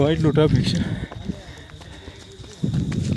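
A mare's hooves clop along a forest pilgrimage trail, a loose uneven rhythm of dull hits, with people talking nearby over the steady outdoor background.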